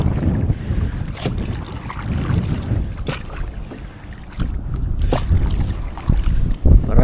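A small boat moves across water near mangroves with steady low rumbling, wind buffeting the microphone, and occasional splashes and knocks throughout.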